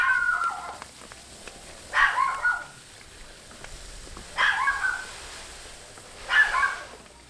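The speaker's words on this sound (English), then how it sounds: "I apologize ahead of time if you guys hear a barking dog this entire time." A neighbor's dog barks in four separate bursts, each a short cluster of excited barks, spaced about two seconds apart at moderate distance over a quiet background hum, with no talking.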